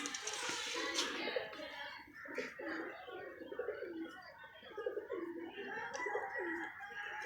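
Pigeons coo in soft, repeated rolling calls at close range, layered over one another with a busy background of other bird sounds and brief voices.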